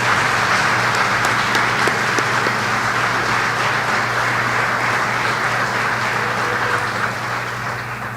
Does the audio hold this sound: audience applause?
yes